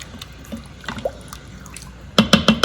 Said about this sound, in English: Okay, so we'll do another half a cup of water.